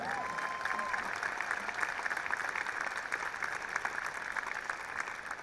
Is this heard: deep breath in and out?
no